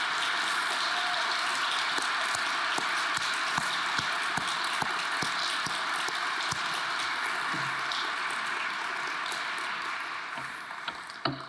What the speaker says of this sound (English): I'd like to just have another round of applause for all of the artists who really brought it here tonight